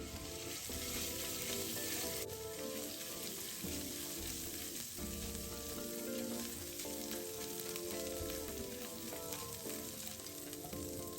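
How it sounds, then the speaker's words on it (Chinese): Minced ginger fries in a tablespoon of hot cooking oil in a wok, a steady loud crackling sizzle that runs throughout with scraping stir strokes and no talking. "锅里头倒入1大匙食用油，油热后倒入姜末1小匙，"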